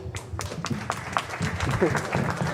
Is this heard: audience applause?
yes